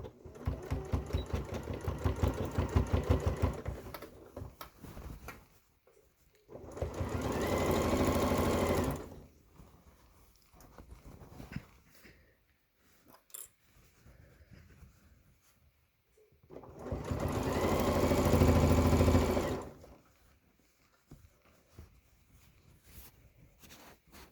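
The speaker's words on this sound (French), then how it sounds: "On met ceci sous le pied, on coud à 1 cm du bord" A sewing machine stitches a reversible tote bag made from fabric scraps, sewing 1 cm from the edge. Three close bursts of rapid mechanical stitching are separated by quiet pauses.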